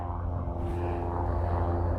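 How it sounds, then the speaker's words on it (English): A small propeller airplane taxiing to a runway near an Oklahoma pioneer cemetery, its engine a loud, steady droning hum with a low buzzing rumble, continuous and fairly close, with no talking. "This is another little airplane that is taxied over to the runway."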